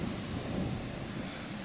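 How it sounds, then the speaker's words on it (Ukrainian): Thunderstorm with rain over a garden plot, a steady dense hiss of rainfall with a low, rolling rumble of thunder underneath, brief and continuous with no voices. "Ось такий пішов дощик."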